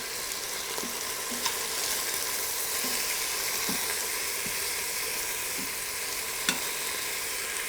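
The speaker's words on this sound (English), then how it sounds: "Now I'm just going to flip the chicken onto the other side." Chicken pieces sizzle and fry steadily in the hot metal pot of a quick cooker just after being flipped, a continuous close crackle with a few small clicks and taps throughout, no voices.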